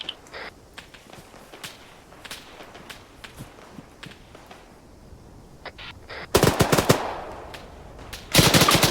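Gunfire in the ARMA 3 military game: scattered distant single shots and short cracks, then two loud bursts of rapid automatic fire from a rifle such as an AKM, up close; no talking.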